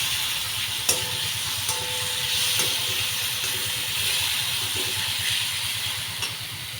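Onion and tomato sauté in a pan while green chili and dried Bombay duck chutney is cooked. A steady close sizzle runs throughout, broken by soft scraping and clinking from stirring, with no voices.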